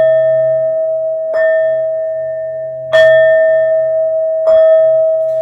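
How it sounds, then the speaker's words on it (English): A small bell struck three times, evenly spaced, ringing for a tarot reading; each clear strike rings out over a faint low hum and decays slowly into the next. "These next 12 bell sounds are to align us and to bless this reading."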